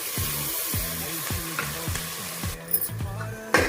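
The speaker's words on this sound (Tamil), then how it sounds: "இப்போ நம்ம தக்காளி சேர்த்து நல்லா வதக்கிடலாம்." Tomatoes and green chillies sauté in a pan with a steady hiss of cooking. Repeated low tonal pulses run underneath, and a few sharper clinks come near the end.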